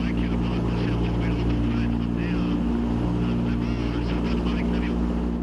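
Vintage World War II airplane in flight, its piston engine giving a steady, loud droning hum throughout, heard from on board with voices talking over it.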